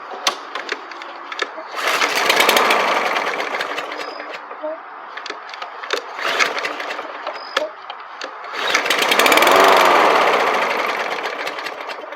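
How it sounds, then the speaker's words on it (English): A faulty lawnmower engine, needing a new spark plug, runs roughly and unevenly, surging louder twice with rattling, sputtering bursts in between, close by. "I'll show you a quick clip of what the lawnmower's doing before I replace the spark plug"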